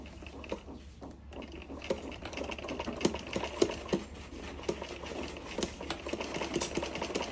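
A sewing machine runs steadily while stitching a pocket into a double-layer coat, a quiet continuous rapid mechanical patter with faint clicks throughout, no voices.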